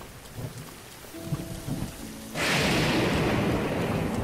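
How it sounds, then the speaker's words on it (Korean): Thunderstorm in The Legend of Zelda: Breath of the Wild, during a shrine trial: a sudden loud crash of thunder breaks in and gives way to a steady roar of heavy rain, after a quieter stretch of ambient game sound. "번개가 치네요."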